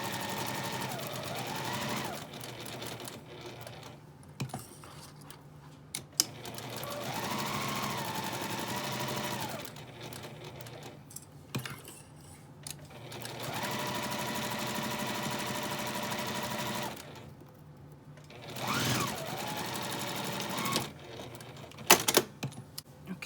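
A sewing machine stitches a bunting flag string in several bursts of rapid mechanical whirring, separated by short pauses where the needle is left down to pivot at the corners, close and clear with no talk.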